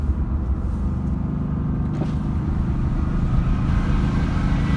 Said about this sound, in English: Now I'm going to go ahead and put that exhaust on